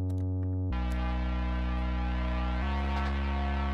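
Gritty synth Reese bass sits under a deep house opener, a sustained harmonic-rich tone that thickens and brightens partway through, playing loud and alone without any talk.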